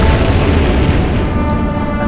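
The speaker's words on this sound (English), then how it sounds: "And a secondary explosion finishes off the Kelvin." A secondary explosion sinks a destroyer in the naval strategy game Atlantic Fleet, a loud, sustained low rumbling boom that fills the whole stretch with dense roaring energy and no clear break.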